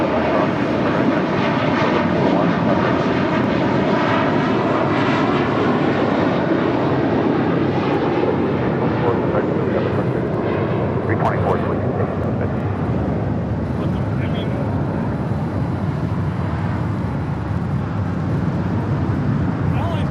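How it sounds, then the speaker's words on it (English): A JetBlue Airways Airbus A321 jet departing LAX for JFK, its engines roaring loud and steady at close range throughout, with a voice briefly heard under the noise. "That was JetBlue Airways Flight 324 heading to JFK in an A321"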